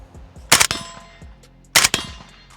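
Two suppressed rifle shots through a Red Star BSR47 suppressor, each a sharp muffled crack followed by a ringing clang of the round striking a steel target, spaced about a second apart.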